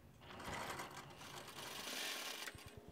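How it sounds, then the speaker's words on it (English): A sewing machine edge stitching an under collar runs in a steady, close whir for about two and a half seconds, then slows to a few distinct thumps as it stops, with no one talking. "you're edge stitching the under collar and not touching the upper collar"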